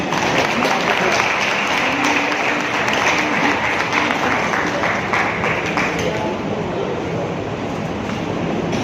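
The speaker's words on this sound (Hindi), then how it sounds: "एक जोरदार तालियां दें" Sustained, dense applause from an audience at a pin celebration event held by an MLM business group, loud and continuous throughout, easing slightly toward the end.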